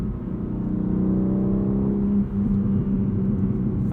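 A 2021 BMW M3 Competition pulls hard from inside the cabin, a loud steady engine drone rising in pitch with a brief dip around the middle as it snaps through an upshift before climbing again.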